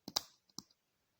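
A few sharp button clicks on a digital timer for a refrigerator relay, two quick presses followed by two softer ones, close and clear with silence after.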